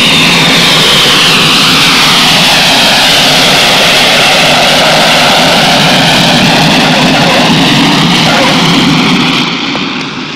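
An aircraft coming in to land at an airfield gives a loud, steady engine roar whose pitch slowly sweeps and shifts, easing off slightly near the end.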